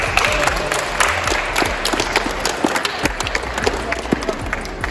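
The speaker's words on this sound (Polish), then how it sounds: "Brawa." Applause from a crowd at a youth five-a-side football tournament honouring the second-place team, irregular sharp claps over a murmuring crowd, with some talk underneath.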